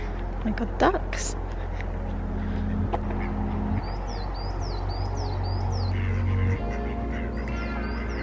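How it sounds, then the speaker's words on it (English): Ducks quack in a series of repeated nasal calls at a cozy outdoor spot, fairly close and clear, while a steady low hum and occasional voices run underneath. "I got ducks"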